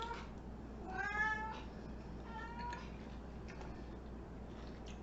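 Domestic cat meowing indoors, two or three short rising mews near the start and middle, faint over a low steady room hum, with a few light ticks afterward.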